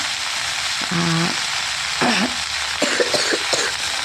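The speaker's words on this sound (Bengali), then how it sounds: "দেখো লাউডাটা বসিয়েছি এখন" Bottle gourd stems fry in a pan with a continuous hissing sizzle. A few short hoarse vocal sounds, like a voice or cough, rise over it partway through, followed by several light clinks.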